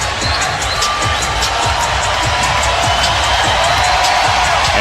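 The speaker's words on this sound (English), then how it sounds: "what's left of the crowd as Anderson commits a foul will stand and applaud here" A thinning basketball arena crowd at a Spurs–Timberwolves game rises and applauds after a foul, steady cheering and clapping throughout, with sneaker squeaks and rhythmic ball bounces close by.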